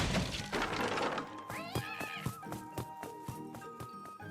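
Stray cats yowl and meow over a loud crash in a visual novel scene, followed by rapid scampering thuds and rattling as they run off, close and busy with a musical tone underneath.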